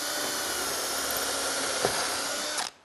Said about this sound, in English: Once that is done, you'll drill through that as well.